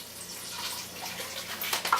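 A cup of water pours steadily into a slow cooker already holding beef broth and consommé for French dip, a soft continuous trickle that ends in a few brief splashes.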